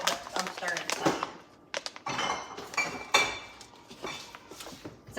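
A spoon clinks and scrapes against a dish as liquid smoke is stirred into home-cooked food, a run of sharp, close metallic taps and rattles while people talk.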